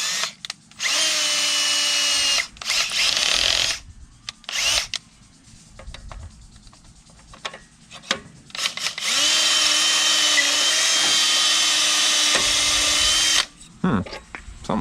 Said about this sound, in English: it's starting to drill a hole in the center